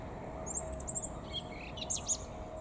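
Birds chirp and sing in a quiet garden, a few short high twittering phrases over a soft steady background hush, fairly distant and gentle, with no talking.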